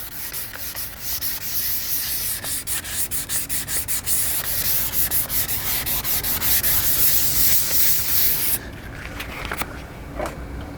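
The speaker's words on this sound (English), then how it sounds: "I've got to sand a little more on that side" Hand sanding of a fiberglass metalflake repair, rhythmic back-and-forth rasping strokes close up for about eight seconds, then stopping into near quiet with a few faint scuffs.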